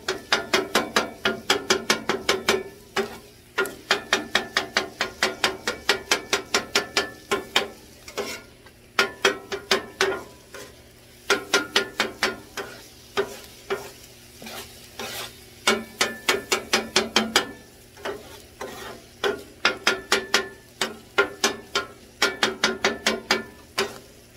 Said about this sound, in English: chop a little bit more just to get a little finer pieces of the meat